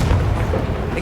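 Confringo blasting spell in Hogwarts Legacy: a dense, loud, booming blast that holds steady for about a second, with a low rumbling body and no speech.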